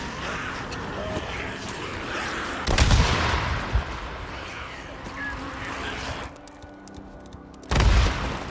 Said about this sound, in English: let's get them moving with a flashbang